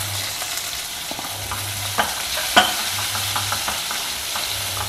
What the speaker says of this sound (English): Now fry all these very well.